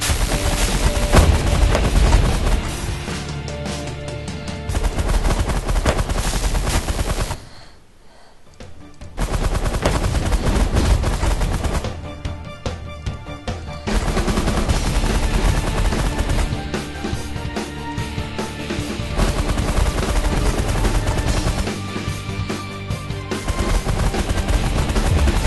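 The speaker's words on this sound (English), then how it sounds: "Go to minigun, go to auto fire." Minigun auto fire in the space strategy game The Last Federation: a loud, dense, continuous rattle of rapid shots. It breaks off in a short lull around the eight-second mark and thins briefly near twelve seconds before resuming.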